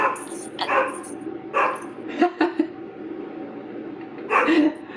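Several dogs bark in short bursts close by, a few sharp woofs and yips spread over a few seconds, loud and alone with no talking over them.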